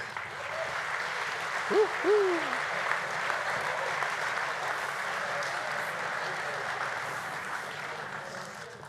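Applause at a Slovenian armed forces command day celebration, a sustained even patter of clapping from an audience heard under a faint hum, with a brief whooping voice rising over it early on.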